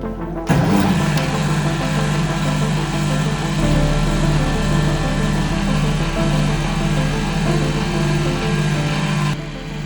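A Liberty Engine free-energy motor starts and runs: an abrupt onset leads into a steady, loud mechanical drone with a constant low hum that lasts about nine seconds and then cuts off.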